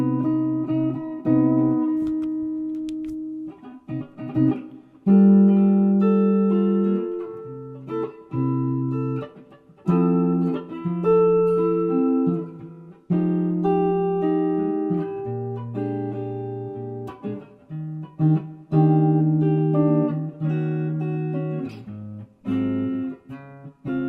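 A jazz standard played with its original chord changes, sustained harmonic chords moving through the progression with rhythmic attacks, alone without talk.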